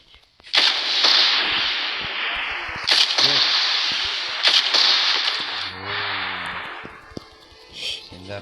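Video game gunfire: several sharp, loud cracks with echoing tails, near, while energetic voices talk over the shots.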